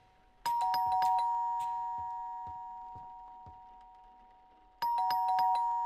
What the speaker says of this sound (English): someone's ringing the doorbell.